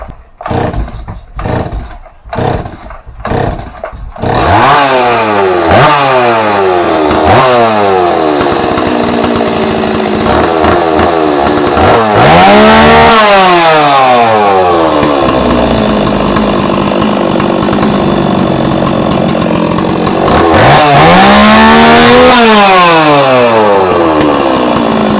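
A Stihl 026 chainsaw on a bench takes several sharp starter-cord pulls before catching, then runs loud and close, revving up and falling back to idle several times.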